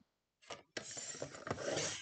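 Paper being trimmed to size for a scrapbook page, heard as a short rasping slide followed by a longer continuous scraping cut, close and fairly loud with no talking.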